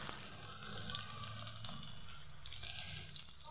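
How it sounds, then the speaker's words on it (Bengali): Black mustard seeds and garlic sizzle steadily in hot oil in a pan as a tempering for raw mango dal, with a dense continuous frying crackle and occasional stirring, close and alone without talk. "একটু ফোড়নটা হয়ে যাওয়ার পরে দিয়ে দেবো পেঁয়াজ কুচি।"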